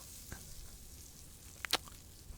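A rib eye steak sizzles in a pan as a quiet, steady hiss, broken by a couple of brief crackles near the end.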